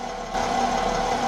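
A BMW X6 (E71) engine with a clogging diesel particulate filter and engine fault codes idles at close range, its exhaust a steady, droning hum that grows slightly louder partway through and holds constant.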